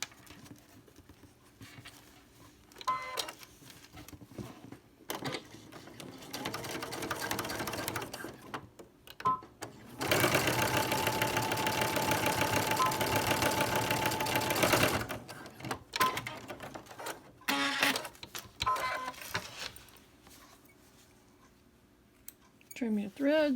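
Sewing machine stitching a strap onto a small sandal, heard in short stop-start bursts and one long continuous run of rapid needle clatter, with a person talking between the runs.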